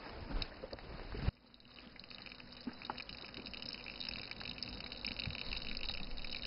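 Faint, steady trickling and splashing of a tiny stream of water at the source of a Chinese river, the Pearl River near Xunwu, with a continuous watery hiss throughout.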